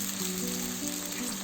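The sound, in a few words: sliced onion frying in a pan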